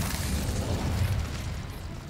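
Incendio fire spell cast in Hogwarts Legacy, a steady roaring whoosh of flame with a low rumbling body, sustained and fairly loud for about two seconds with no talk over it.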